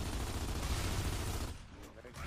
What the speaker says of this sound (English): I decided I'd sit back and use some support fire